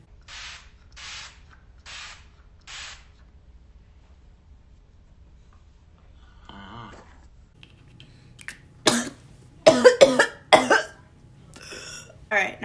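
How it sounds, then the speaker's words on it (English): Rose water is spritzed from a spray bottle as a makeup setting spray: four short, crisp hissing pumps in quick succession, close to the microphone. A quiet pause follows, then a person talks. "now I'm just going to set that with my rose water"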